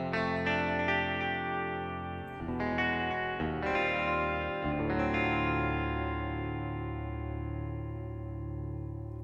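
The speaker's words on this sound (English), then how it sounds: "this is the same sound, but with the chorus, the delay, and a little bit more reverb." A Korg Pa5x arranger keyboard plays a sustained, layered synth patch with chorus, delay and added reverb, chords shifting every second or two, then ringing out in a long, shimmering tail.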